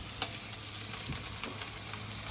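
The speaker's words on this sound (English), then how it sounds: "While my vegetables are sauteing" Peppers and vegetables sautéing in a pan for a chickpea frittata, a steady close sizzle with small popping crackles and faint stirring scrapes, no voices.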